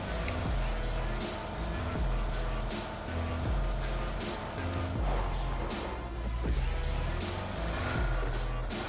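A video game car engine drones continuously at moderate loudness with a broad, rough tone and small surges, while faint crackles and brief impacts break through now and then.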